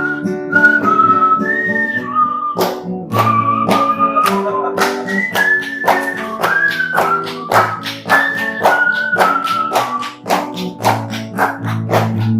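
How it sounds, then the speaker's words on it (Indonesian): A melodic whistled tune rises and falls over steady plucked guitar chords, close and clear, with no talking. "Bisa sambil main gitar sambil bersiul."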